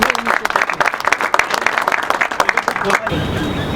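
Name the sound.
audience applause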